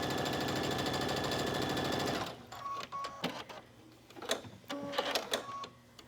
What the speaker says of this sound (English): Stitching the armhole in place.